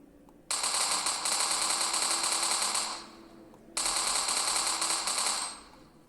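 Rapid automatic gunfire from a P90 submachine gun in a video game, two long sustained bursts, crisp and loud, separated by a brief pause, with a video-game sound quality.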